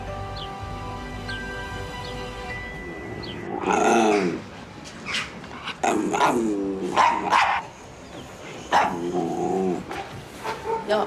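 A dog barks repeatedly and loudly at close range, with sharp yips and growly barks coming in irregular bursts over a steady engine-like hum and background noise, after a stretch of droning tone.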